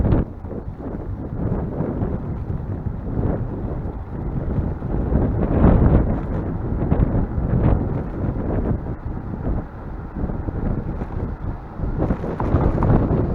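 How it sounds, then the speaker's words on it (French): Strong wind buffets the microphone in a continuous low, rumbling roar with gusty surges, loud and steady and without any voices. "Qu'est-ce qu'il y a comme vent aujourd'hui?"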